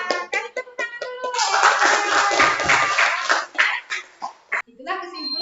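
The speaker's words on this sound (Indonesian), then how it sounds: "Kasih tepuk tangan dulu." A school class in an Indonesian lesson claps hands together: a few scattered claps, then a burst of group clapping mixed with children's voices, followed by sparse final claps as a teacher's voice returns.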